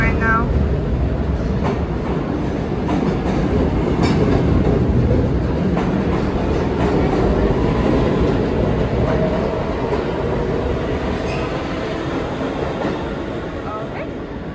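A New York subway train rumbles steadily along the tracks, a loud continuous roar with rattling wheel noise throughout, fading slightly toward the end.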